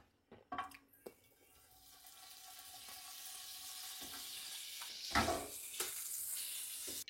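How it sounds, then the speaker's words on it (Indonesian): Eggs fry in butter in a pan with a steady, close sizzle that builds and holds, broken by a few clinks and taps of a utensil against the pan; no one talks. "Sekarang saya mau masak telur. Biasanya pakai butter."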